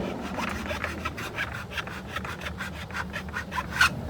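A hand file rasping down the head of a rivet during an RV awning lift handle repair, with steady, rhythmic back-and-forth strokes up close and no talking.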